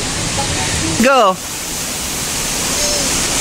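A small stream and little waterfall rush in a steady broadband hiss at a campsite in Liliw, Laguna, with a brief shout partway through.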